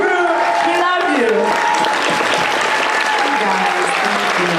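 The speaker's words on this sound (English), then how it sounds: "I just want everyone to get up and clap for Brianna, Wayward Sisters, the cast and the crew" An audience applauds the cast and crew of the Wayward Sisters spin-off, a dense, steady wash of clapping that fills the whole stretch, with voices and some tonal sounds mixed in.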